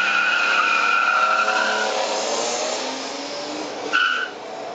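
A 2014 BMW 3 Series xDrive and a 5 Series launch side by side in a sprint, with a loud, steady engine roar and tire noise that eases off slightly, then a short sharp burst near the end.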